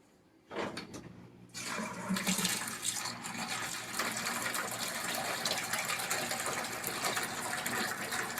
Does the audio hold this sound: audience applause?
no